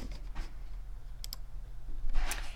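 Computer mouse clicks, a few small sharp clicks, one close double click in the middle, heard alone over a low steady hum.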